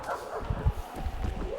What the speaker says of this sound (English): I hear dog.